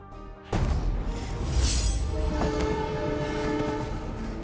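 A train runs on rails with a loud, steady rolling rumble that starts abruptly and carries sustained horn-like tones above it.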